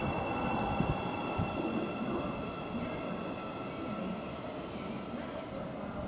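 A Class 717 train pulls away from Potters Bar station on the East Coast Main Line, a steady close rumble of wheels and traction with a faint high whine running throughout.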